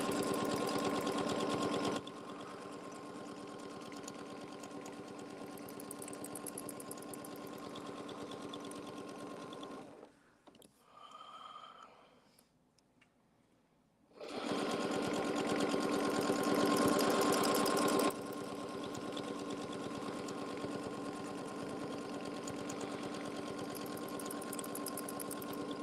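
Sewing machine double stitching at an Artisan Curve machine, a steady rapid mechanical whir that pauses for a few seconds midway, then resumes at a similar pace.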